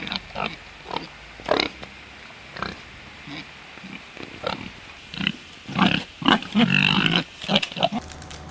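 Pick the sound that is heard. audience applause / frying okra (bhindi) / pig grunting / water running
pig grunting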